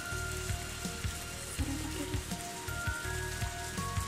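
Steady rain falling in a visual novel game, a dense even hiss of drops pattering on a surface with faint tonal music underneath, close and constant throughout with no talking.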